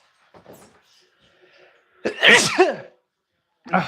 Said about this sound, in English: Okay, now I gotta sneeze.